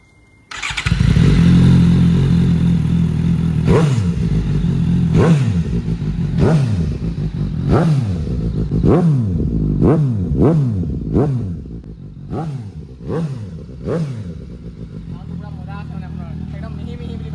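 A low-priced superbike's engine idles loudly close by, then is revved in a series of about ten sharp throttle blips with falling exhaust roars, the later ones coming faster and settling back to a rumbling idle.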